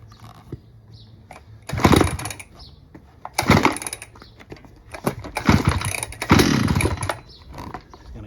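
An old Husqvarna 395XP chainsaw being revived rasps and buzzes in several loud bursts of a few seconds each, with quieter mechanical clatter in between.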